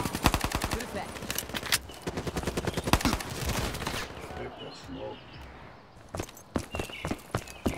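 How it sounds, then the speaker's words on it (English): Rapid bursts of M1911 pistol fire in a first-person shooter video game, sharp closely spaced shots rattling off in quick strings, pausing midway, then resuming in scattered loud cracks. "there's no way that gun shoots that fast"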